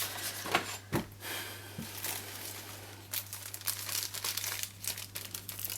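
Stamps tipped out of an envelope make a busy run of papery crinkling and rustling with a few sharper crackles, close and fairly soft, over a steady low hum and with no voices.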